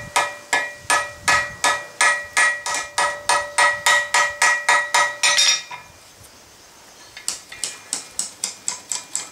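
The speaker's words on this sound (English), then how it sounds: "let's set this rivet." A hot rivet on a pair of forged bolt jaw tongs is set with a hammer in a blacksmith shop: rapid, evenly spaced ringing metallic blows, about two dozen in a row, a brief pause, then another quicker run of strikes.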